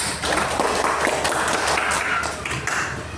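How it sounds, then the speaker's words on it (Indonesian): Scattered classroom clapping for a presenting student group, a steady patter of many hands running for about three seconds at moderate level with no talk over it. "tepuk tangan untuk kelompok 1"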